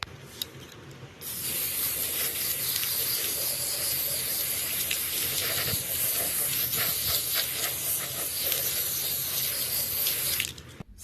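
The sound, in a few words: spray painting glass jars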